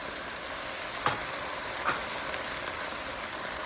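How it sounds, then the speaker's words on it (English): Shallots and peppers fry in a pot for a vegetable beef stock, giving a steady, close sizzle that runs throughout, with a few brief stirring scrapes and clinks. "And now you just cook this until it gets fragrant"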